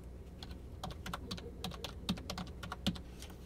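A computer keyboard being typed on steadily as a phone number is entered into an online registration form, producing a run of crisp, close key clicks at an irregular rhythm, with no voices.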